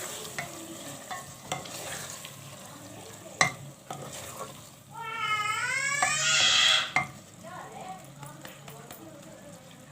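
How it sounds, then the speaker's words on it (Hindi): Coarsely crushed mungre hit a hot pan and fry with a rising sizzle and scraping stirs, while someone talks over the cooking and a cat meows in the middle. "जो मुंगरे हैं मैंने उसको दरदरा सा कर लिया है, अब वो मैं ऐड कर रही हूँ"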